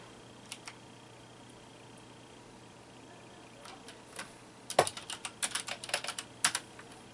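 Clicking keys on a computer keyboard while playing Quest for Glory 2, a few isolated taps early on, then a quick run of close typing strokes near the end.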